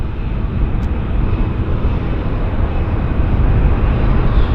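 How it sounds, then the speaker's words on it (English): An American Airlines airliner taxiing at Vancouver Airport gives a steady, broad jet-engine rumble that holds at an even, moderately loud level, with the whine faint behind the low roar. "American is taxiing over to the US gates here on the north side."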